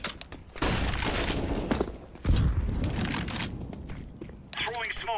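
Grenades and flashbangs go off in a video game as several muffled, fairly quiet bursts with crackling debris, separated by short gaps. Voice call-outs are heard among them.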